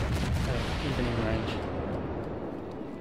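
Naval guns fire in the World of Warships video game, a dense booming rumble with rolling low thunder that slowly fades over three seconds, and a faint voice underneath.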